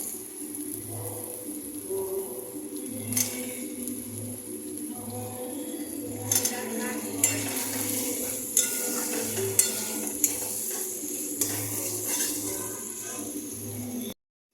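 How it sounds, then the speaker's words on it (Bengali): Potatoes are stir-fried with spices and turmeric in a pan for a potato gravy, giving a soft steady sizzle with a spatula scraping and stirring in a regular rhythm and occasional clinks, with no talk. "এবারে আমি এর মধ্যে আলুগুলো দিয়ে কষাবো।"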